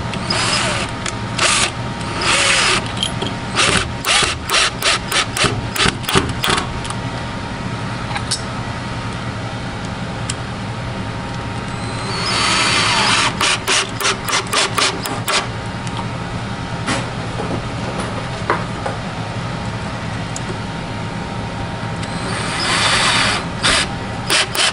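Drywall screws with washers are power-driven into the friction material of a Puch E50 moped clutch, with several bursts of drilling whir and sharp clicks over a steady background hum and no talk.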